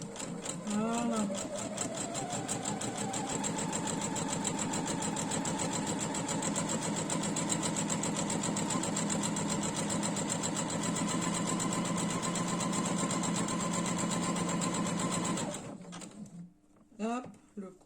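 Sewing machine overcasting the edges of fabric for framing a cross-stitch embroidery, a steady close whirring run for about fifteen seconds before stopping, with a voice talking over it.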